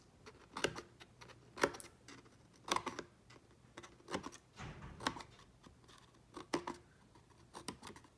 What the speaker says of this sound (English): all you have to do is just take some scissors and make some cuts right here.